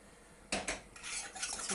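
Sauce ingredients of butter, flour, salt and pepper are whisked together in a pan, giving a brief run of quick, close metallic scraping and clinking strokes at a fairly low level, with no talk.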